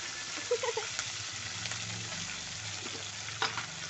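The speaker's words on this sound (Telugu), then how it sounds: "కరివేపాకు. కర్రీ వండితే ఇలా చిట్టుతుంది కదా ఫ్రెండ్స్" Curry leaves sputter and crackle in hot oil for a Telangana-style drumstick and tomato curry, with a few sharp pops early on over a steady, close sizzle and a brief clatter near the end.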